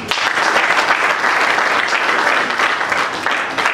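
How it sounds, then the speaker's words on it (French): Voters at a party election held at Centre Nganda in Kintambo burst into steady, dense applause that stays loud and continuous from start to finish, with no talk over it. "Madame Marianne Moujing, par acclamation des votants."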